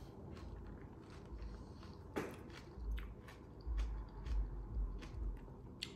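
Someone chewing food close to the mic, with soft wet squishing bites and a few thicker low thumps repeating irregularly over several seconds, no talking.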